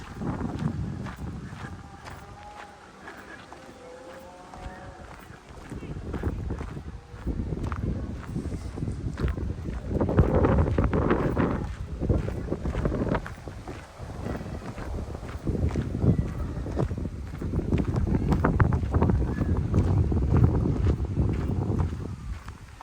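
Wind gusting through trees on the Longshaw Estate in the Peak District, with broad rushing noise that eases and then swells again, buffeting the microphone in steady waves at moderate loudness.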